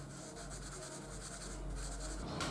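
An OUU alcohol marker in color BG7 coloring a drawing on paper, filling in areas around a figure: a continuous close, soft scratchy rubbing of felt tip across paper, with quick back-and-forth strokes.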